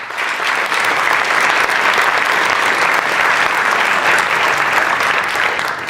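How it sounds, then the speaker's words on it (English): A large audience applauds the organizers of an MIT accelerator showcase event, steady dense clapping sustained for about six seconds, loud and close, with no speech. "I wondered if you'd all join me in a round of applause for Ezgi, Grat, Jimmy, and all of those who worked so hard to make this happen"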